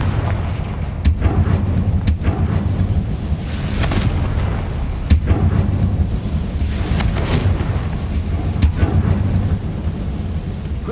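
Blasting-spell explosions from Hogwarts Legacy go off in a series of sharp, loud booms with deep rumbling tails, about half a dozen impacts spaced irregularly over a continuous low roar.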